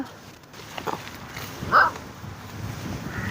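A dog barks once at a distance over wind noise and rumbling outdoor background, with a few fainter yelps around it.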